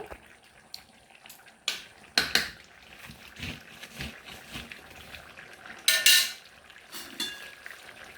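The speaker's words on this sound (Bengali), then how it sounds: "এখানে ভেজে রাখা মাছগুলো দিয়ে দিচ্ছি।" Fried fish pieces go into a pot of bottle gourd curry with scattered clinks and scrapes of a utensil against the pot, along with soft wet stirring and splashing sounds, fairly quiet and irregular.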